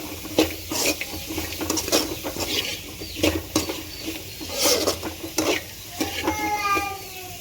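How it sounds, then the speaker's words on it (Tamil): Beans and carrots sizzle and crackle in oil in a hot pan, with intermittent scraping and stirring clatter from a utensil. "பீன்ஸ் கேரட் சேர்த்து நல்லா வதக்கி விட்டுக்கலாம்"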